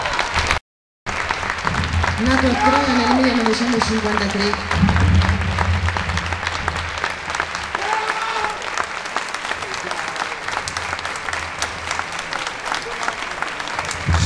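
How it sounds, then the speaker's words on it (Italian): Sustained audience applause fills the hall at the Rosone d'Argento 2010 award ceremony, steady and loud throughout, with a presenter's voice speaking over it early on and briefly midway. "facciamogli un grande applauso"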